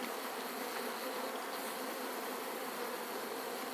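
A large, strong bee colony swarm being hived on a hot day fills the air with a dense, steady buzzing hum that stays even and close throughout, with no voices.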